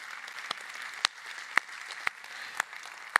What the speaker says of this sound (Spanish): Y toda la iglesia empieza a aplaudir